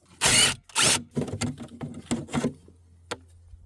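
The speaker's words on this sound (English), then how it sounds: "Take a 10mm and remove these two 10mm bolts." Metallic clicks and short ratcheting bursts from a 10mm wrench loosening two bolts on a Toyota Camry during a transmission fluid change, close and fairly loud, with two strong bursts followed by a series of lighter taps.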